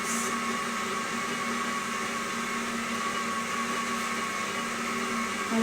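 An electric mixer runs steadily at one speed, beating a chocolate cake mixture with a constant, loud motor whine and hum, with no voices.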